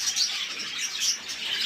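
Pet birds such as canaries and finches chirp and tweet continuously at a bird seller's stall, a dense, busy chorus of high calls with no speech.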